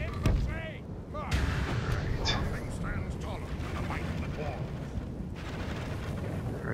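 Battle sounds in the Third Age Total War game as archers begin firing, a dense rolling clatter of volleys and impacts with repeated sharp bursts, a voice talking over it.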